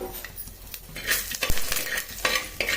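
Urad dal roasting in oil in a pan, with a steady faint sizzle under repeated close scraping and stirring strokes of a spoon against the metal, sharper clinks standing out now and then.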